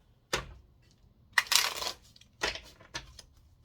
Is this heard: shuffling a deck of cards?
yes